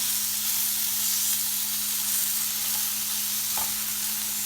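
A ribeye steak sizzles loudly in a very hot pan, the bright hiss and crackle holding steady and close throughout with a low hum underneath and no speech.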